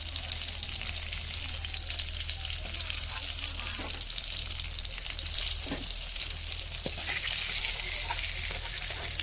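Pabda fish frying in hot oil in a small wok, a steady close crackling sizzle with faint stirring scrapes, no talking.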